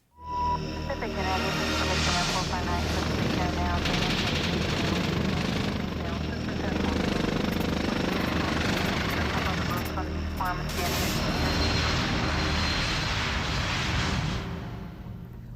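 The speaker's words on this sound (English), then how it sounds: "We hear them overhead and we see their blinding beacons, but the chopper cop's job is a mystery to most of us." A police helicopter flies overhead with a steady loud rotor and engine roar that holds throughout, fading at the end, while a voice talks faintly beneath it.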